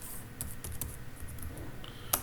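Keystrokes on a computer keyboard while C# code is typed out, a quiet run of irregular clicks with a sharper, louder tap near the end.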